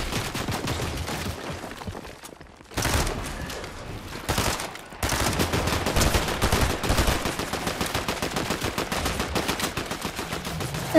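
Rapid video-game gunfire rattles almost continuously, with dense automatic bursts, brief pauses and loud, close shots.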